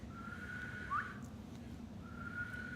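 Someone who cannot really whistle makes a thin, wavering whistle, two faint sustained tones with a brief pitch slide between them over a steady background hum.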